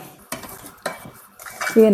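A sweet rice mixture with water is stirred in a pan, sticking to the bottom. A spoon scrapes and clatters against the metal in a few distinct bursts, growing louder near the end.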